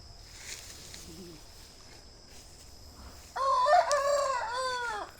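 After a few quiet seconds with faint clucks from grazing hens, a rooster crows loudly and close, its drawn-out call ending the clip.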